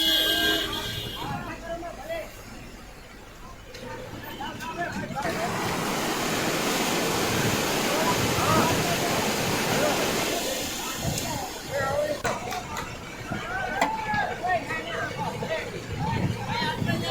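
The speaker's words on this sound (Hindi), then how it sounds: "राजकोट में एक कार पानी के तेज बहाव में बह गई।" Strong floodwater rushing through Rajkot during heavy rain, a loud continuous roar that swells in the middle, mixed with wind buffeting and a babble of distant voices.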